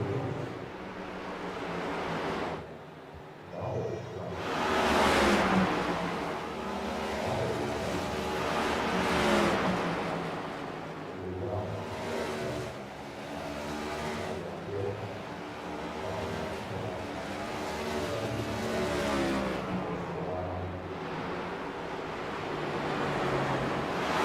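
Stock car engines from an iRacing sim race at North Wilkesboro, a race car pulling onto pit road, droning and revving steadily throughout with no clear pass-by, dense layered engine noise at moderate level.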